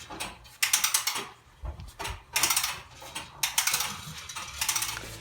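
A hose reel's retractor mechanism ratchets as the hose is pulled, with bursts of quick close clicking in several uneven runs and short pauses between pulls, fairly loud, no speech.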